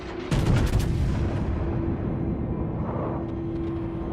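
A Montana battleship's main guns fire a broadside in World of Warships: one heavy, close boom that rolls into a long, dense rumble, over a steady droning tone, with no voices.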